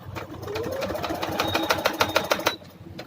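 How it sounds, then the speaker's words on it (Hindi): A sewing machine stitches kurta fabric in a fast, steady run of needle strokes, close and fairly loud, with no talking. "इस मशीन में बिल्कुल ही कॉर्नर से सिलाई स्टार्ट नहीं करते,"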